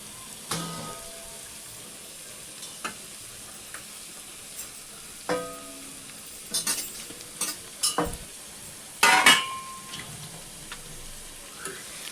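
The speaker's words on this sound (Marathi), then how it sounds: "चांगलं परतून घ्यायचं आपल्याला हे मिक्स करून. बस 5 मिनटं भाजून घ्यायचं याला." Grated carrot and cabbage filling for veg momos is sautéed and stirred in a pan, with a soft sizzle beneath scattered spoon scrapes and taps on the cookware, close by and moderately quiet.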